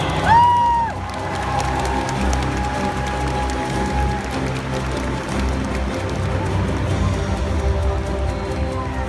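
A convention audience cheers and claps for honorees at a recognition ceremony, a dense, sustained roar of crowd noise filling a large hall, with a brief whistle at the start.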